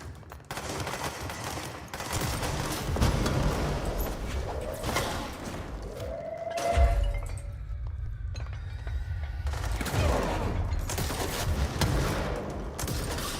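Sustained rapid gunfire from the Control video game, dense bursts of shots running almost continuously with short breaks, loud and close in the game mix.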